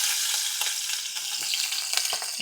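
Garlic frying in hot oil with mustard seeds and asafoetida gives a steady, close sizzle with brief stirring scrapes and pops over the top, no voices.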